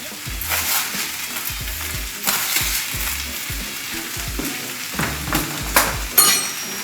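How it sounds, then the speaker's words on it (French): Rice stirred in fat with vegetables for a vegetarian paella crackles and sizzles loudly up close, broken by repeated scraping and knocking as a utensil moves through the pan; no voices. "Et le fait de mélanger le riz avec une matière grasse, ça s'appelle nacrer le riz."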